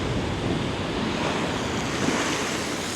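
Surf pounds the coast at the Alofaaga Blowholes on Savai'i, a steady, heavy roar of ocean water with gusty wind noise on the microphone and no voices.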